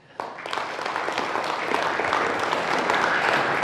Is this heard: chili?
no